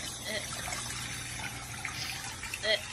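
Tap water runs steadily into a sink for hand washing, a continuous close splashing trickle under a voice talking.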